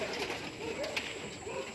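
Pigeons cooing in a loft, soft low coos amid faint background noise, fairly quiet and brief, no clear talking.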